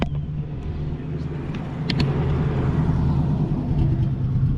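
A loud Chevrolet Corvette race car, its engine holding a deep, steady idle rumble that swells a little louder midway, with a few faint clicks on top.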